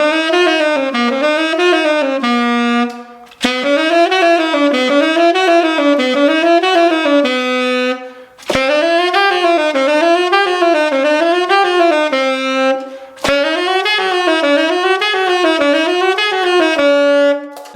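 Saxophone running nonstop through a chromatic series of major scales starting on C, a steady unbroken stream of rising and falling notes played loud and close, with only brief breath gaps.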